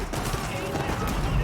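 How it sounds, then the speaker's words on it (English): Hand cannons and culverins firing in a video game battle, a dense fusillade of rapid overlapping gunshots at moderate distance, continuous crackling under a commentator's voice. "Oh, here come the cannons, as well as the culverins, just blasting"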